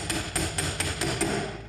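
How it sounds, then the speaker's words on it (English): A hammer drives a Vespa scooter shaft into its bearing while building a 40HP Vespa, giving about six sharp metallic whacks at a steady rhythm, fairly close in a workshop. "so better stop whacking. That means the shaft sits properly in its bearing"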